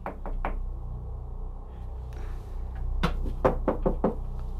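A series of knocks in a haunted escape room, a few quick raps followed by a louder irregular cluster of knocks over a steady low background hum.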